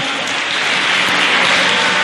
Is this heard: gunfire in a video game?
no